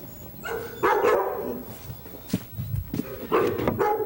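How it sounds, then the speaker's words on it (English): A dog on a rural property barks repeatedly in rough bursts, nearby and fairly loud, with scuffling footsteps and outdoor noise between the barks. "59-year-old Scudder Smith of Mentone lives in a world of almost constant barking."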